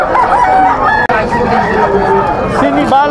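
A young rooster crows near and loud in a busy Malabon pet market, with other fowl clucking and voices chattering around it.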